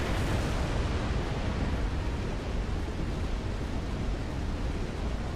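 A dense, continuous roar of explosions from a Covenant destroyer's beam weapon in Halo Reach, a loud, steady broadband rumble with no breaks and no talking.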